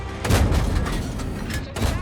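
Heavy tank cannon shots from a Panhard EBR 75 (FL 10) in a game, deep booming blasts with rumbling tails, a couple of loud reports close together.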